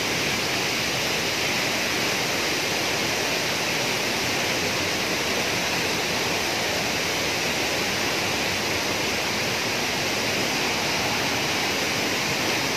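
A waterfall pours into a cold, clear stream, a steady unbroken roar of rushing water close by with no voices over it.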